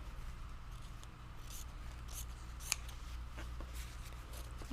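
Scissors snipping a small piece of white fabric at a sewing session, a few faint quick cuts and rustles, with one sharper snip near the middle, close but quiet over a low steady hum.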